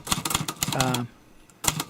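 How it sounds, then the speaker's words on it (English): Typewriter keys clatter in quick, uneven bursts while a letter is typed, with a short ringing tone partway through, a pause, then more key strikes close by. "No, this is all just typing."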